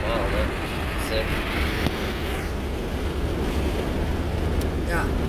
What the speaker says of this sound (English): Maybe I can edit out the wind later or something.